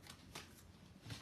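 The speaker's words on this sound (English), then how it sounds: "So we are going to shuffle now the tarot" Tarot cards are shuffled in a quick, soft riffling burst, close and faint, with no talking.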